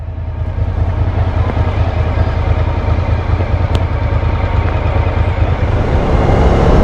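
Two motorcycles ride together along an open road out of Oakey, Australia, producing a steady, loud engine drone and road roar that holds nearly constant and swells slightly toward the end, with no talking.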